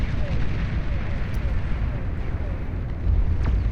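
Bombers pounding a T3 production facility in a Beyond All Reason 8v8 deathmatch, a dense continuous rumble of explosions rolling without pause, loud and close, with a heavier burst near the end.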